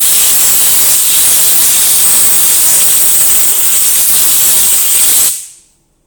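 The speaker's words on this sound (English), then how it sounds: "Worth just using an airline, just quickly blow off before you start disconnecting anything and exposing anything." A compressed air line blows a loud, steady hiss over the top of a Ford Fiesta ST180 engine to clear debris, then cuts off abruptly near the end.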